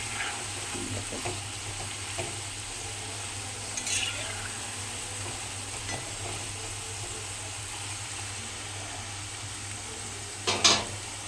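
Nimki deep-frying in hot oil on a high gas flame, a steady close sizzle and bubbling with a few light stirring clinks, and a brief louder scrape near the end.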